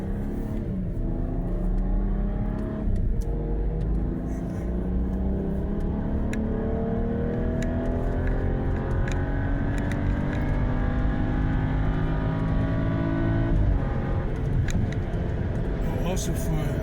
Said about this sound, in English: it's an 8-speed transmission. So that's why you hear it changing so rapidly, so fast.